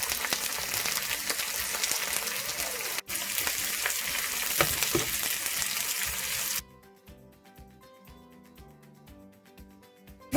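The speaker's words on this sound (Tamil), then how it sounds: "இதோட கொஞ்சம் கருவேப்பிலையும் சேர்த்து வதக்குறேன்." Onions, fennel seeds and curry leaves sauté in a pan for sambar, giving a steady, close sizzling hiss with stirring for about six seconds before dropping to a faint, quieter simmer.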